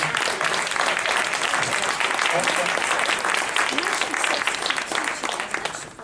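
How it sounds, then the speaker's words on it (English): Audience applauding volunteers at a community gathering, a loud, full round of clapping from many people that carries steadily for several seconds before easing slightly, with some voices mixed in. "Can we have a big applause for our volunteers?"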